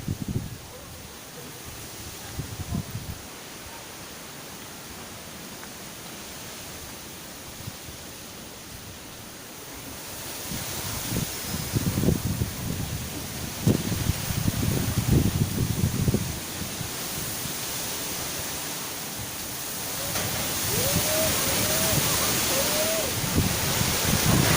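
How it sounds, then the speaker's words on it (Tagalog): Strong wind from Typhoon Rolly roars in uneven gusts, building and easing over time, with rattling and buffeting against the microphone, steady and close, no rain. "Ganun pong kalakas ang hangin."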